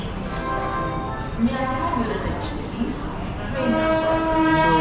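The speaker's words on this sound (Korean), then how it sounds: "지금 기차도 왔습니다" A train arrives at a station in India, its horn sounding in long sustained tones over the heavy rumble of rolling railcars, loud and close, with some people talking nearby.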